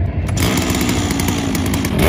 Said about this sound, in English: Okay, guys, I got my saw adjusted to cut a 2-inch slab.